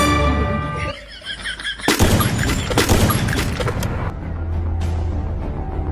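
Gunfire in a video game: a couple of sharp, loud shots and bursts ring out after a musical passage, with one more shot further off amid a low rumbling game backdrop.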